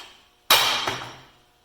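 A single sharp hammer blow on a socket used to free a Dana 60 ball joint in a steering knuckle, a loud metallic crack with a ringing tail and a faint second ring, heard alone.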